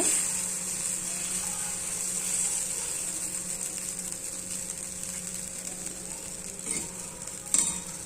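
An atta vegetable roll fries on one side in a lightly oiled pan, giving a steady soft sizzle throughout, with a couple of faint clinks near the end.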